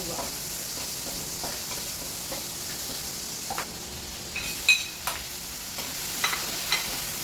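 Fish fries in a pan with a steady, soft sizzle and a few sharper clinks of stirring near the end. No one talks.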